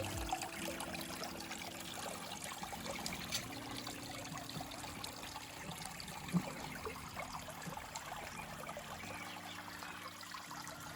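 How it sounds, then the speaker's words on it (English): A small garden river trickles steadily between two ponds, a faint, continuous babble of running water with no voices over it. "And the little river is running as well as it should."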